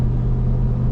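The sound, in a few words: Ford F-250 Tremor 7.3 gas engine accelerating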